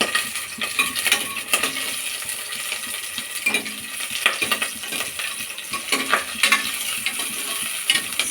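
Chopped onion fries in hot oil for sambar, giving a soft continuous sizzle broken by repeated clinks and scrapes of a utensil stirring against the pan.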